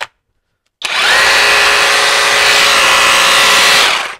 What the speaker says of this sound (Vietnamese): Thân này thân khoan bê tông màu đen.